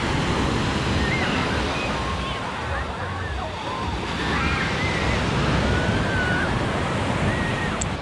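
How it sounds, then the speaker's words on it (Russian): Sea waves wash onto the beach along the Adler embankment in Sochi, a constant loud roar of surf mixed with wind buffeting the microphone, and faint high calls float above it. "Вот такие волны. Хоть бери доску и катайся."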